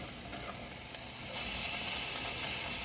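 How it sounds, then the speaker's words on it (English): Shredded hash browns sizzle in a pan while being stirred, a constant bright hiss and crackle that swells slightly partway through, with faint scraping beneath and no talking. "I'm going to keep mixing because you can't let the hash browns stick to the bottom of the pan"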